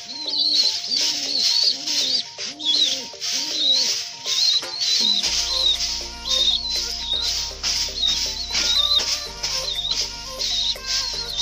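Pigeons in a breeders area coo in repeated soft throaty phrases, close and regular, with chirps and occasional wing flutters; later a low mechanical hum joins beneath the birds.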